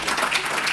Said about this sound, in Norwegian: Da gir vi dem en skikkelig applaus